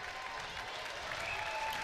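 Crowd at a Wisconsin Badgers women's hockey game applauds offensive pressure, a faint, steady wash of clapping heard from a distance in the arena.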